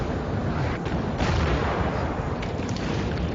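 Cannon artillery fire roars in a video game battle, a thick, continuous rumble of booming shots and blasts layered loud throughout with no talking.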